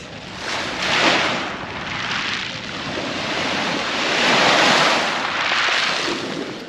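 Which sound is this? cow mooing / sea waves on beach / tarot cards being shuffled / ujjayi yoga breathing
sea waves on beach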